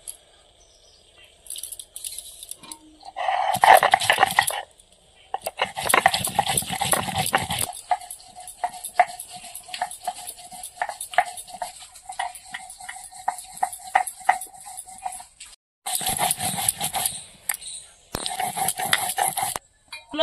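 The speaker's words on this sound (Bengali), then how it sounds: "শুকনো লঙ্কা নিয়ে নিয়েছি, গোটা জিরে আর একটু আদা আর কাঁচা লঙ্কা, এবার একসঙ্গে বেটে নেব" Dry red chillies, whole cumin, ginger and green chillies being ground into a paste, heard as bursts of rhythmic scraping and knocking strokes with short pauses between them.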